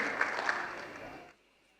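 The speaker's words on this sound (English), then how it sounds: "Another round of applause for our graduates." A crowd applauds school graduates at a junior school graduation ceremony; brisk, dense clapping for just over a second that cuts off abruptly into near silence.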